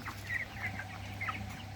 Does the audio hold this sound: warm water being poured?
no